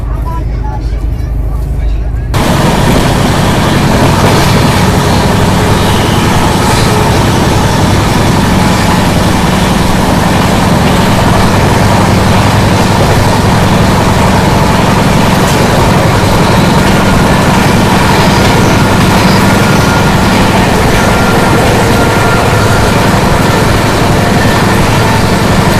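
Steady, loud rumble of an Indian passenger train running on the Delhi to Darbhanga route, with a continuous low drone and rattle filling the whole stretch after a brief quieter start.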